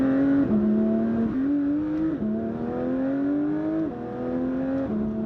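Porsche 992 GT3 with a titanium exhaust revving on the road, a loud, close engine howl climbing in repeated pulls with sharp dips at each gear change, no voices over it.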